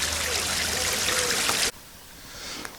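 A garden pond fountain splashes and trickles steadily at close range, then drops off sharply, leaving only a faint, quieter water sound.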